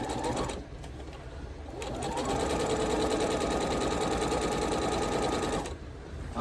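A sewing machine runs steadily, stitching a strap unit onto a star unit, a close, continuous mechanical whir that starts, pauses briefly and resumes at a loud, even rate.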